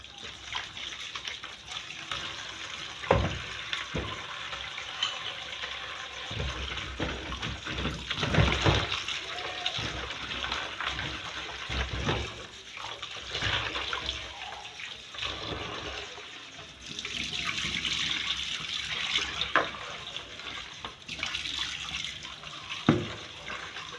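Rinse water from bitterleaf splashes and pours nearby in uneven bursts, with trickling and gurgling between louder gushes, as liquid drains off.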